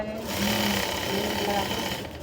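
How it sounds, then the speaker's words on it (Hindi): A sewing machine runs steadily at close range, double-stitching a seam on a jumpsuit in one continuous, even burst of fast stitching with no pauses. "और यहाँ पे बराबर इसको डबल सिलाई लगाएंगे"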